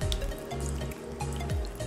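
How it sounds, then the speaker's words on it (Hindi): Water is poured over an unlocked OnePlus 6 phone, a close, continuous splashing and trickling with brief low thumps, steady in level and without talk. "ये अभी अनलॉक है और इसके ऊपर मैं डालने वाला हूँ पानी।"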